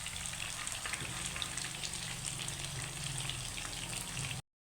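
Steady, loud sizzling and crackling of tilapia frying in hot oil, continuous and close, cutting off abruptly at the end.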